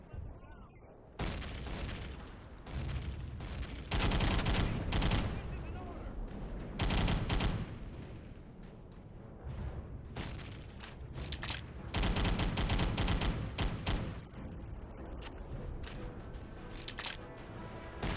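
Thompson submachine gun fire in a World War II shooter game cracks out in rapid bursts, mixed with other gunfire and booms in loud, dense stretches across the battle.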